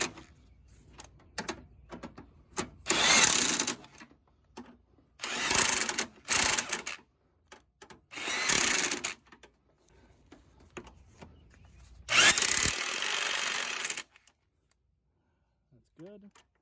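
A power tool tightens the transmission mount bolts on a Ford Focus in several loud, close bursts of whirring and rattling, separated by short pauses, with quieter clicks and handling noises between them.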